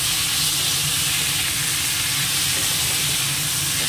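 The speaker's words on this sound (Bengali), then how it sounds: "এই মাছটা বেশি ভাজার দরকার নেই, শুধু এদিক এদিক একটু করে নিই তাহলেই হয়ে যাবে" Fish fries in a pan, giving a dense, steady sizzle up close with no talk over it.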